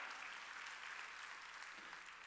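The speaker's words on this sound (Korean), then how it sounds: "뇌가 깨끗해지는 걸 믿어 박수 쳐라" A church congregation claps steadily through a Wednesday worship service, a dense, continuous wash of applause with no pauses and no voices standing out.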